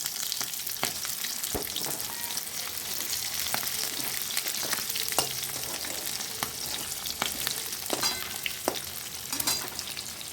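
Onions sizzle steadily in hot oil after fried paneer, while a spatula scrapes and taps the pan now and then, sharp clicks over the constant hiss.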